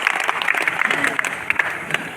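An audience at a kavi sammelan poetry gathering claps briskly and steadily, a bright patter of many hands close by, with a voice briefly heard over it.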